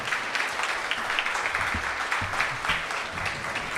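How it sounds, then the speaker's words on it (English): A crowd applauds as a participant walks up at a live debate event in Los Angeles, continuous clapping with scattered louder claps and a few low thumps and stray sounds up close. "He needs a long applause."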